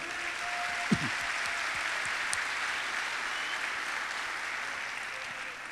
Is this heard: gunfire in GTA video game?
no